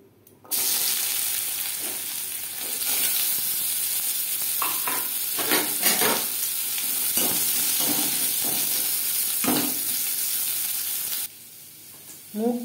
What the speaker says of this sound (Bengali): কড়া বসিয়ে সবজি ভেজে নেব